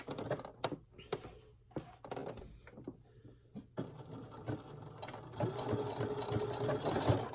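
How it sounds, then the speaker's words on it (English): Sewing machine stitching along the edge of a scarf at a long stitch length, starting with a few separate clicks and then running steadily as a close, continuous mechanical whir. "It's going to be done on my sewing machine"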